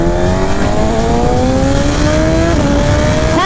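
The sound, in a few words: BMW S1000RR motorcycle accelerating through gears with quick shifter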